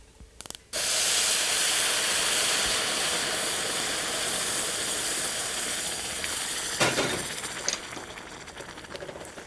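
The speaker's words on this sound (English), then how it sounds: "And now let's add our boiling water." Boiling water poured into a pot of sautéed rice bursts into a loud, steady hiss of steam and sizzle that starts abruptly and holds for several seconds before gradually tapering, close and alone without talk.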